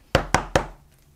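Three sharp, evenly spaced knocks on a door, close and alone, with a short resonant fade after the last one.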